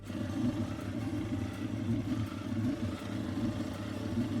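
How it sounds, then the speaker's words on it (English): A car engine idling with an abnormal sound, a steady low rumble with a faint clattering layered over it, continuous and close throughout. "their car has started to sound strange during idle"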